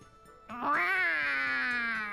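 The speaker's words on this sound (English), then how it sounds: "Look how many cats he rules over now." A cartoonish cat meows in Tales of Xillia 2, one long drawn-out call with a rising start that holds steady, close and clear, alone.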